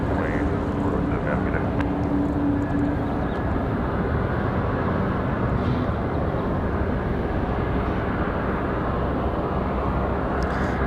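A United Airbus A319 airliner taking off from the runway at Raleigh-Durham airport, a broad steady low roar of jet engines held at constant level across the whole stretch, heard from a distance.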